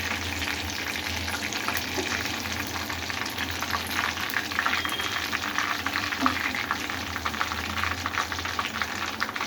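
Quail pieces deep-fry in hot oil, giving a steady, dense crackle and bubbling that runs unbroken at close range, with no talking.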